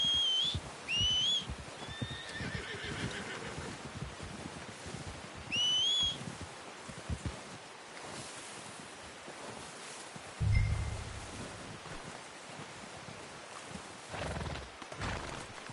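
Faint horse sounds from the video game Farming Simulator 25, scattered hoof steps and movement with a few high whistle-like calls and a short thud, quiet and sparse throughout.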